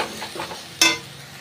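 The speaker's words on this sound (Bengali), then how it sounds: "একটু কাশ্মীরি লঙ্কার গুঁড়ো দেবো। খুব ভালো করে কষিয়ে নেব।" Spices with Kashmiri chili powder sauté in a pan, a soft sizzle overlaid by a sharp metallic clink of a spatula against the pan, then quiet frying.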